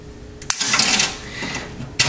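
Flush cutters snip through a plastic light diffuser panel for a frag display rack, giving a sharp close snap followed by a brief clatter, with a second crisp snip at the end.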